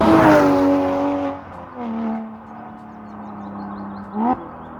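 A Porsche 986 Boxster with a Hartech 3.7 litre engine and carbon fibre airbox revs loudly at first, then its engine note settles to a steady, slowly falling drone before a brief sharp rev blip near the end.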